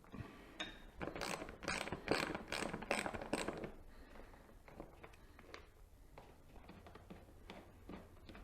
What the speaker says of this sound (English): we're going to get those 4 screws out first